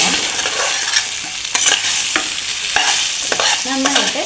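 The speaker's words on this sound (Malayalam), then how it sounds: "ഇനി ഒരു 2 മിനിറ്റ് നമുക്കിതൊന്ന് ഇളക്കാം" Raw mango with chili powder, turmeric and asafoetida is stirred in a hot pan. A spoon scrapes and clacks over a steady sizzle, close up with no talking.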